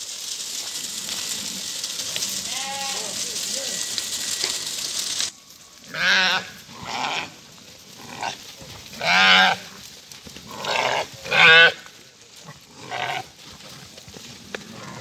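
Young male Tatar-breed lambs bleat again and again, several close, wavering calls in an irregular run, after a stretch of steady farmyard background noise.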